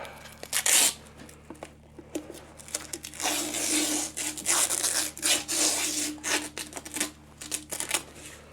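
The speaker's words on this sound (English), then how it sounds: "So I'm going to get some thicker masking tape. Just fire it round like that." Thick masking tape is pulled off a roll and wrapped around a bike part in quick bursts of close, crackly tearing and rubbing, separated by short pauses.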